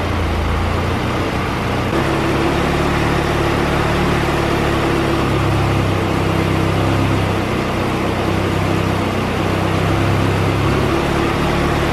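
A turbocharged Honda B18C engine idles steadily with the idle air control valve switched off, a constant low rumble with a faint whine held evenly through the whole stretch.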